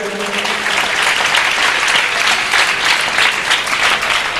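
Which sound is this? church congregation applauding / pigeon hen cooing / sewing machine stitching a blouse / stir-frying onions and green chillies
church congregation applauding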